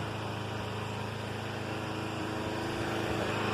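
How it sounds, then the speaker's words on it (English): Husqvarna lawn mower engine with an old replacement muffler running steadily at a constant idle, a continuous low drone with faint mechanical hum, no talking. "mower's still running"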